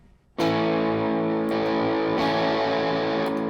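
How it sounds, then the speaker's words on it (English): An electric guitar rings out through a Line 6 Pod Express distortion effect, one loud sustained distorted chord struck after a brief quiet start and then re-struck lightly twice as it holds. "it's a distortion pedal."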